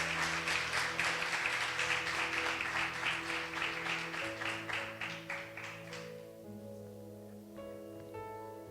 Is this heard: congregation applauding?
yes